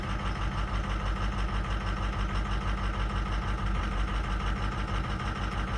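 A truck engine idling just after a cold start with a dead cylinder, a loud, close, steady rumble with a fast, even pulsing throb and no speech.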